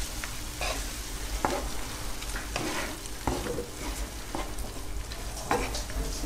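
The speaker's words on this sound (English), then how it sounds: "And just stir it around, man." Abalone sauce sizzles in a hot pan as it is stirred around, a steady bubbling hiss with repeated scraping strokes of a utensil every second or so, close by and without voices.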